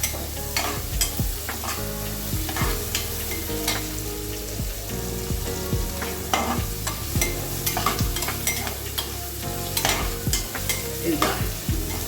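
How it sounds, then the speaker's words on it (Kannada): Onions sauté in hot oil for a raw papaya pulao while a spatula repeatedly stirs and scrapes the pan. Close, continuous sizzling is broken by frequent clattering strokes, with no talk. "ಈರುಳ್ಳಿ ಸ್ವಲ್ಪ ಬಾಡಬೇಕು."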